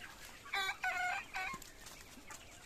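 Golden Sonali chickens on a farm give a few close, harmonic clucks and short calls in quick succession over a faint hiss of background, with no talk.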